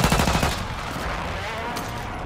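Rapid gunfire in Call of Duty Warzone Resurgence quads on Ashika Island, a quick volley of sharp shots at the start that fades into a noisy, reverberant tail.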